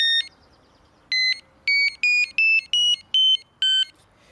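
Carp fishing bite alarm switched to a different selectable tone: one beep, a pause, then a rapid series of seven loud electronic beeps whose pitch shifts from beep to beep, heard up close.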